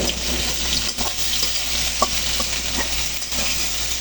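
Rohu fish curry base frying in a pan, with eggplant already fried in, gives a steady close sizzle with light stirring scrapes scattered through, no talking.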